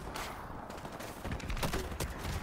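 Rapid gunfire from Call of Duty Modern Warfare, with dense overlapping shots and bursts crackling steadily for a couple of seconds at close range.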